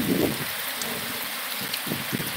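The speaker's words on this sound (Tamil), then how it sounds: "மழை பெய்யுது சார்." Heavy rain pours down in a dense, continuous hiss that fills the whole stretch, loud and close, with occasional heavier drops and splashes and no voices.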